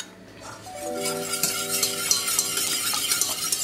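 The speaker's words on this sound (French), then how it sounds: "Il faut fouetter énergiquement." Quick metallic clinks and scraping of a whisk beating egg yolks in a warm saucepan for béarnaise sauce, steady and close, with a faint sizzle underneath.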